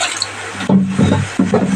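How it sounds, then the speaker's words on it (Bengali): Water pours into a pan where chital fish is cooking, a steady splashing stream with a few louder gushes, close and alone. "তো এই যে মাছটা একটু সেদ্ধ হওয়ার জন্য একটু জল দিয়ে দিলাম।"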